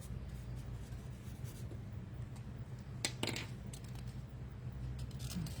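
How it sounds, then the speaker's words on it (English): A pen scratches across paper at a farm shop counter, quiet strokes over a steady low hum, with a couple of sharper scribbles partway through. "There, so I can actually write."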